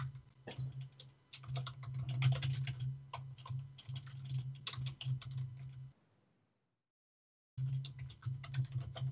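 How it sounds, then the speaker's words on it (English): Rapid clicking of keys on a computer keyboard, fast and uneven, pausing briefly before the typing resumes. "your keyboard's even louder than mine"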